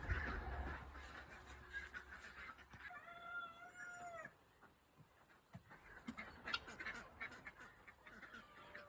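Farm birds calling in a yard, with a duck quacking amid clucking chickens and guinea fowl and a brief rooster-like crow, plus some rustling and background noise.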